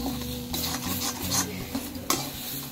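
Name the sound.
stirring taro and shrimp curry in a pan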